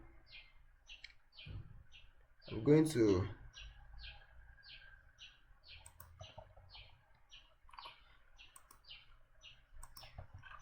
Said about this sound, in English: write CS on my keyboard